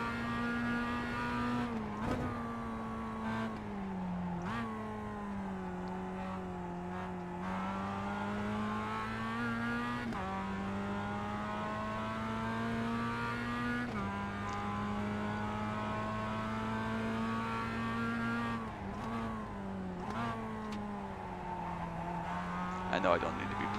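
A simulated Mazda Cup race car in iRacing at Summit Point Jefferson drones steadily, its engine note rising and dipping with quick throttle blips and brief tire squeals, while someone talks over it.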